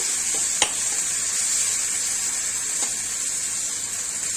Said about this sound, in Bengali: মশলা ভাজা হয়ে গেছে, আর মশলা থেকে তেল বেরিয়ে গেছে।